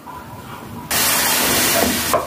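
A sudden loud, steady sizzle of chopped onions frying in hot oil starts after a quiet moment and continues as a broad hiss, close by.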